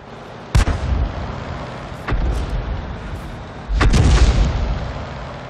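Explosions in the World of Tanks tank battle game: three deep booming blasts, the first sharp at about half a second, a softer one near two seconds and the loudest near four seconds, each trailing into a low rumble.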